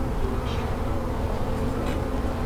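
Honey bees buzz steadily at close range while a beehive is opened for inspection, a dense continuous hum with a couple of brief sharper buzzes as individual bees pass near.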